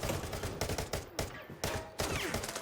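Dense bursts of gunfire from a shooting video game crackle in rapid, repeated volleys, loud and close, with brief gaps between the rounds.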